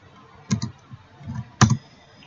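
Computer keyboard typing while entering text in MS Access, with two short bursts of clustered key clicks close by and a few fainter taps between, no talking.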